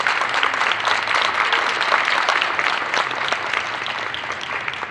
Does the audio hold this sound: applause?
yes